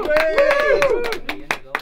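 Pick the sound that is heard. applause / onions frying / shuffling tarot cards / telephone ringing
applause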